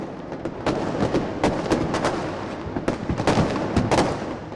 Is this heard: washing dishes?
no